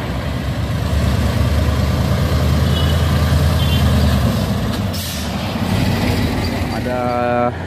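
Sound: Hino container trailer truck

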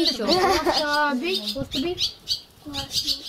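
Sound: swallow chicks calling from the nest

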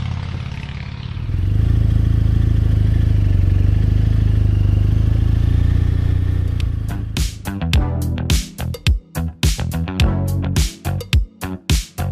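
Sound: rumbling motorcycle passing by

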